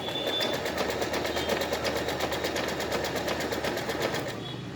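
A sewing machine stitches the edges of patch fabric for reverse appliqué in a fast, steady, rhythmic rattle that runs close and loud without a break.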